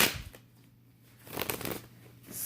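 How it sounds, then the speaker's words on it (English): Brief riffling of playing cards being shuffled, a couple of soft papery bursts in a quiet room, close to the listener. "I try not to look at the cards when I'm shuffling"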